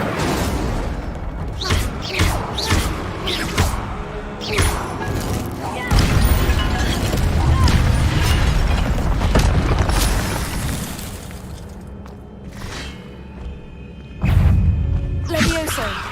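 Incendio fire spells cast repeatedly in Hogwarts Legacy, loud bursting booms and crackling blasts in quick succession with dense, continuous action noise throughout.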